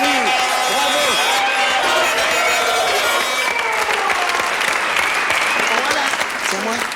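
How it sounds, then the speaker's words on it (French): Sustained applause from a studio audience on a French television game show fills the whole stretch, loud and dense, with a presenter's voice over it. "Dorothée, mesdames, messieurs, on l'applaudit."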